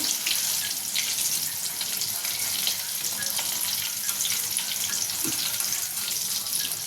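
Curry leaves and green chillies fry in hot oil with a loud, dense, continuous hiss and crackle close by, a few brief pops rising from the steady sizzle.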